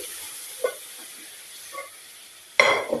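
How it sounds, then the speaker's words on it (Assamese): Papad fries in hot oil in a home kitchen, starting with a few faint crackles and small pops before a sudden loud burst of sizzling near the end as it hits the oil, close by. "পাপৰ আৰু ভাজি"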